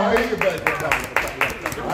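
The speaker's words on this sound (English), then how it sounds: "You got to clap." A steady run of single hand claps, about four per second, fairly close and clear, with people talking over them.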